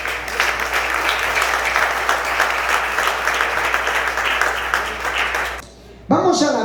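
A church congregation claps as an offering of applause to the Lord, a loud sustained wash of many hands that cuts off abruptly near the end as a voice begins.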